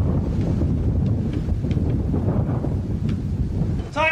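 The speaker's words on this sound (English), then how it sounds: "It's getting too windy for me." Strong wind blows through a desert canyon near Pahrump, Nevada, roaring steadily against the microphone in loud, gusty buffets, with a brief voice at the very end.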